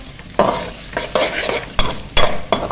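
A medium onion hits hot oil with whole garam masala in a pot for chicken yakhni pulao, sizzling steadily while a spoon stirs in repeated scraping strokes, close and with no talk.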